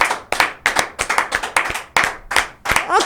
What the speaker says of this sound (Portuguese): palmas pros nossos senadores